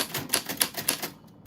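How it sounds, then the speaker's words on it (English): A manual typewriter clacks at close range in a brisk, uneven burst of sharp key strikes with a few bright metallic pings, then falls quiet at the end, with no talk. "This is Typewriter ASMR"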